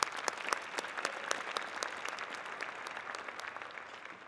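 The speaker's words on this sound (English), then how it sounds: "I want to give a round of applause for all your supporters around" Audience at a spring convocation ceremony claps steadily for the graduates' supporters, dense and continuous applause with sharp individual claps standing out, no speech over it.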